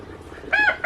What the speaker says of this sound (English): you know why they crow all the time or cockadoodle all the time?